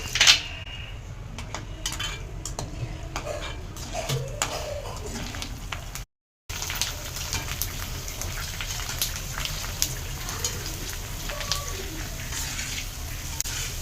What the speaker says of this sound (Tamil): எண்ணெய் காஞ்சிருச்சு நம்ம பூரி பொறிக்கிறதுக்கு ஆரம்பிக்கலாம்